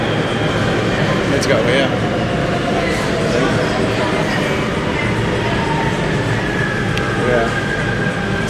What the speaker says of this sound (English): Oh, here we go. Here's the train.